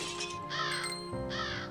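Crow cawing in The Vagrant video game: two loud, harsh caws close together, heard over a steady background tone.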